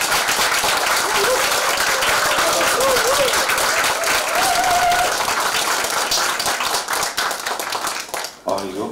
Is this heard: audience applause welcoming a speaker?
yes